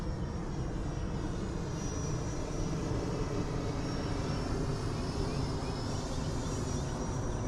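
An E-flite Viper 90mm RC EDF jet flying overhead, its electric ducted fan giving a steady, loud whooshing whine that holds constant throughout without voices.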